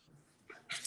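Dogs give a quick whimper, then a short sharp bark close by, all within a second against a quiet background.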